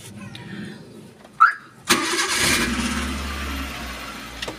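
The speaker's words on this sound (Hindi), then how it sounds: "इसकी की लगाते हैं हम और गाड़ी को करते हैं स्टार्ट।" A Maruti Suzuki Eeco van's engine cranks briefly and catches, then settles into a steady, close idle after a short click beforehand.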